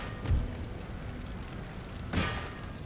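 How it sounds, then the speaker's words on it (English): Cannons fire in the Total War: Empire strategy game, two distant booms several seconds apart, each a muffled low thud with a rumbling tail over a steady hiss of battle ambience. "we're going to have the cannons pretty much firing non-stop once we get close"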